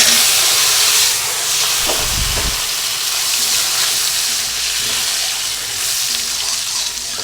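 Bay leaf sizzles in hot oil before boiled potatoes go into the pan for an egg and potato curry, a loud steady frying hiss with a brief burst of heavier sizzle and clatter early on.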